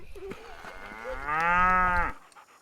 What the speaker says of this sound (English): They run some 400 head of cattle on their northern Arizona ranch